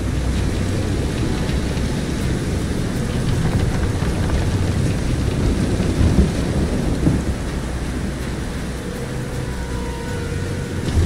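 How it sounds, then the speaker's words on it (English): A heavy thunderstorm at sea in the Visions of Mana video game: dense, steady rain roars close by, with low rumbling thunder and surging water running under it and no voices. "This is some storm. Careful of the swell of the waves."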